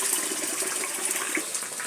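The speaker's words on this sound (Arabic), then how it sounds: "هسه دا اغسل التلة" Water runs steadily from a kitchen tap while dough is rinsed at the sink, a continuous close splashing gush with no pauses and no talking.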